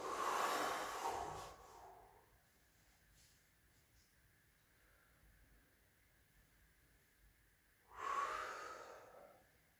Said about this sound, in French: Respirez par le buste. Et on expire. Respiration thoracique.